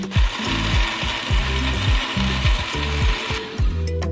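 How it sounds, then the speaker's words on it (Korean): A blender whirring continuously at maximum speed as it purées melon, a constant motor roar with rhythmic music underneath. "멜론을 모두 믹서기에 넣고"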